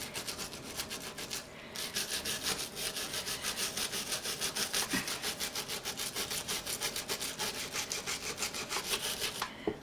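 Steady back-and-forth rubbing of a rag or pad against a gun's metal surface to clear surface rust, a close, continuous scrubbing rhythm through the whole stretch with no talk.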